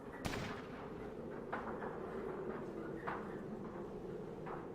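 Gunfire in the Fallout video game, a handful of sharp shots spaced irregularly over a steady low background, moderately loud and close.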